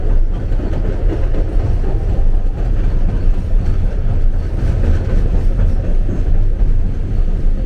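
Train riding the 3-hour line to Aguas Calientes, Peru: a steady, loud low rumble of rolling railcars and running gear fills the whole stretch, with no talk.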